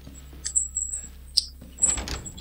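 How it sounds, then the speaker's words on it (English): A door creaks and scrapes open in the Resident Evil 7 VR horror game, with a few short squeaks and a sharp click mid-way before a rougher sliding rumble, fairly close and without talk. "Going through the door."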